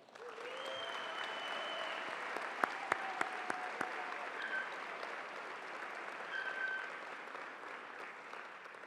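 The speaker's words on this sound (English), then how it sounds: "Please clap your hands for distinguished scholar and professor of kinesiology and public health, Dr. Sarah Keetle." Steady audience applause for a kinesiology and public health professor at a university convocation, a dense wash of many hands with a few sharper claps near the start, sustained at moderate level throughout.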